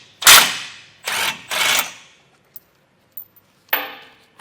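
Tow hook bolts on a 2024 Ram 1500 being spun out with a 21mm socket: three short, loud mechanical bursts in quick succession, then a pause with a few faint ticks and one more burst.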